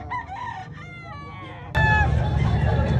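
Roosters crowing at a chicken expo in a public market, one crow followed by a louder, closer second crow that starts abruptly, over a dense crowd murmur of other birds and people.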